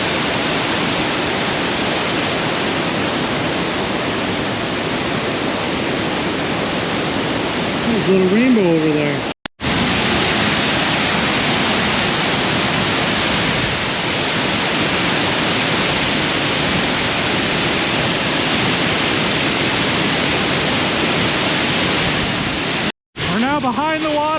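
Mole Falls waterfall roars loudly and steadily as a dense, constant rush of falling water, with brief cuts in the sound and a voice speaking over it.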